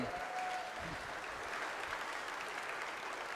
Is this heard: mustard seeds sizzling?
no